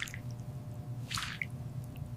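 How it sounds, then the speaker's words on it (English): Soft clay is kneaded and pressed down in clear water, giving a brief wet squish and a few small drips over a low steady hum, close and quiet with no voices. "I'm slowly kneading the clay, releasing the vibrant pigments into the clear water."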